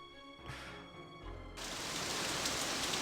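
Rain in the video game Nancy Drew: Message in a Haunted Mansion, set in stormy San Francisco, where a brief tonal game sound fades out and a steady hiss of rainfall then swells in and holds, soft and even.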